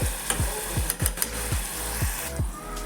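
Onion and tomato cook in oil with a steady sizzle, while low knocks of stirring repeat every half second and a few crisp clicks sound near the pan.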